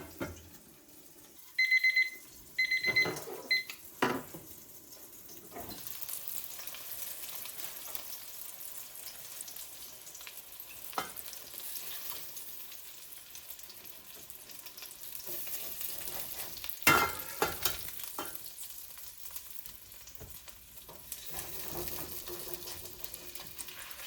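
Meat sizzling and browning in a frying pan on the stove, a soft steady crackle with a few beeps from a kitchen timer early on and some clatter as pieces are turned.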